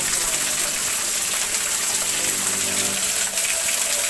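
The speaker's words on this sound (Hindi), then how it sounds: "देखना, अपने आप पानी निकल रहा है।" Natural spring water pouring out on its own at the Eshwara Mahadev temple in Morena, a loud, steady, close gushing rush that holds constant throughout.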